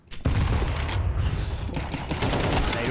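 In a Counter-Strike match, a grenade bursts with a heavy boom and pistol shots crack right after. The gunfire goes on as a dense, loud barrage of overlapping shots with no break.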